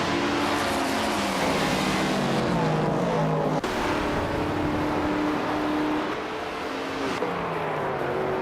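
Several 1966 McLaren Elva Chevrolet race cars roar off the line at Macau in a racing game, engines revving loudly and continuously with overlapping pitches rising and shifting through gears, one abrupt cut midway.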